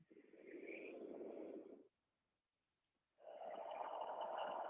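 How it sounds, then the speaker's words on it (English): Dogs snoring nearby in a quiet room, two long rasping snore breaths separated by a pause of silence, steady and fairly soft. "I don't know if you can hear my dogs snoring in the background,"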